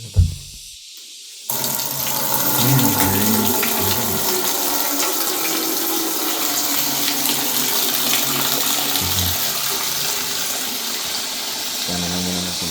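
Water runs steadily from a tap at a campsite, a continuous broadband rush that starts abruptly after a brief quiet moment and holds nearly constant, close and fairly loud, with no talking over it.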